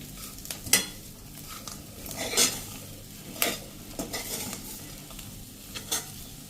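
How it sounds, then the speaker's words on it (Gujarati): Crumbled millet rotla, Kathiyawadi vagharelo style with coriander, gets stirred in a hot pan: repeated scraping strokes and clinks of a spoon against metal over a soft continuous sizzle, with no voices. "હવે આ બધું સરસ આપણે મિક્સ કરી લેશું"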